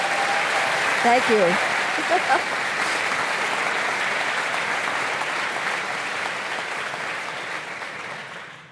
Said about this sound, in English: Let's give her a round of applause for getting through that lightning round.